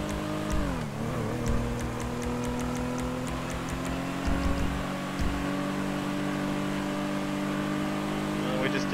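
Engine drone of a slow car in a police roleplay video game, a steady low hum with harmonics that dip then climb as it accelerates, with faint ticking above and a person talking over it.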